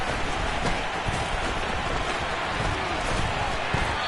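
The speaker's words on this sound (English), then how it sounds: "The rain set to continue as we are underway in the second half." Steady rain falling over an outdoor American football game between the Bears and the Ravens, a dense continuous hiss with faint crowd murmur underneath and no break across the whole stretch.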